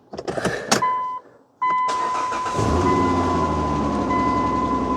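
A Dodge Journey with about 237,000 km cranks briefly, then the engine catches and settles into a steady, loud idle that continues to the end, with no talk.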